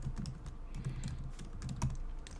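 Typing on a computer keyboard while entering an eBay listing, a run of quick, irregular key clicks heard close against a low room hum, with no talking.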